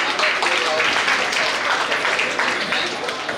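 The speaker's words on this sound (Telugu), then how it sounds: "అందరికి బిగ్ క్లాప్స్ అండి" Applause at a district collector's lunch programme honoring SSC toppers: a steady wash of crowd clapping filling the room, sustained and fairly loud, with voices mixed in.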